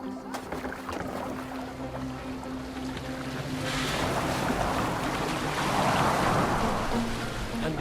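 A boat on open water in the video game Assassin's Creed Valhalla: soft wind and lapping waves with a gentle wash of water against the hull, swelling louder midway and staying fairly quiet overall.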